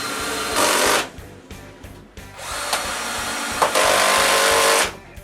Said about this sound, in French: puis je visse le tout ensemble.